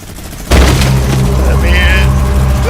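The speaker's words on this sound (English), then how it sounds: "Stop shooting me." Sudden onset of continuous rapid minigun fire in a video game, a dense loud roaring stream of shots that runs unbroken for about two seconds, with a voice briefly audible alongside.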